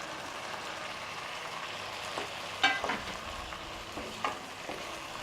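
Chopped tomatoes and onions sautéing in a pan for a prawn gravy, a moderate even sizzle broken by a few clacks and scrapes of a spoon stirring, close by, no one speaking.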